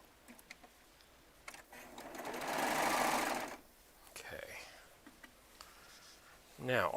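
A Baby Lock Triumph serger joins two quilt block pieces in one loud sustained run of fast stitching, with quieter mechanical clicks and handling around it and a voice speaking before and after.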